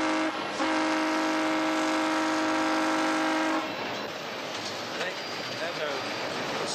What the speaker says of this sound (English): I think that sound of a steam engine working